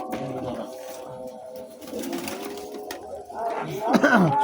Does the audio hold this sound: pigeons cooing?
yes